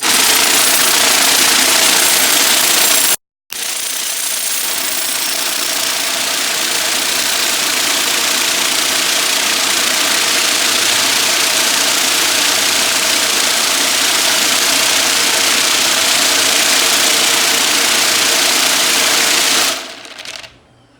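A tumbler churns pieces of Damascus steel in a loud, continuous, grinding rattle that stops for an instant early on, then rolls on steadily before winding down at the end.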